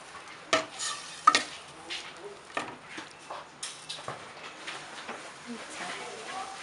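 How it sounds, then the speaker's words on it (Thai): Pork being stir-fried in a pan, with a quiet sizzle and repeated spatula scrapes and taps in an irregular rhythm, close by, with someone talking at times. "นี่ค่ะสูตรที่เรารวนหมู"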